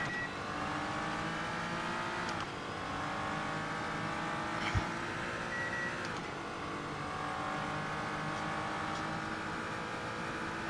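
A Nissan GTR GT3 race car at Le Mans pulls away with a steady, loud engine drone, rising in pitch through the gears with brief shift breaks, heard alone.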